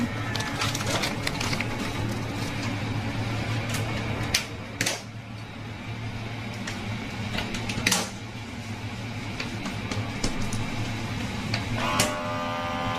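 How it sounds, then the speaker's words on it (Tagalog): A vacuum sealing machine packing hotdogs runs with a steady mechanical whir, broken by several sharp clicks and clunks as it cycles. "ipapak na natin yung ating mga ginawang hotdog. Yan. I-vacuum na natin."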